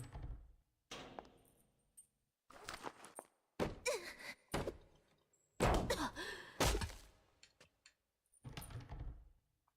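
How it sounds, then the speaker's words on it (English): A locked door rattled in the video game The Killing Antidote, with several separate thunks and metallic jiggles in bursts between silent gaps, fairly close and clear. "这门打不开。"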